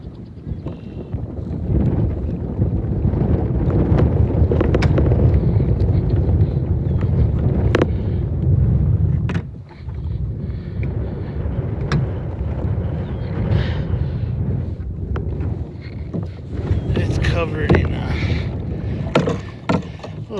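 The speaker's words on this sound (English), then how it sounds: "Wind's blowing us everywhere." Steady wind gusts buffet a fishing boat on Forest Lake in Pagosa Springs, Colorado, a loud continuous rush with occasional knocks and clatter against the hull.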